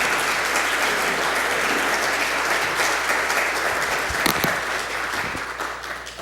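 A large audience at a symposium on pre-Columbian Tenochtitlán art claps steadily to welcome a speaker, dense sustained applause that thins slightly toward the end, with no voices over it.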